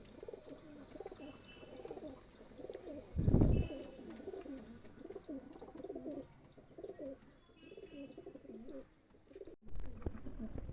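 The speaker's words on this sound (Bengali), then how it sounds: "এগুলো আমাদের কালো পায়রা" Black pigeons of a home-bred line coo in a steady, repeating low burble throughout, close by, with a brief louder rustle or thump partway through and a shift in background near the end.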